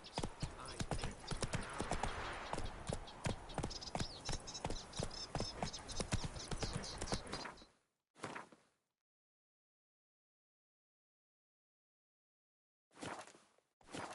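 Roach, the horse in The Witcher 3, clip-clops in a steady, dense run of hoofbeats for about eight seconds, then a short burst of hooves and, after a silent gap, a few final steps.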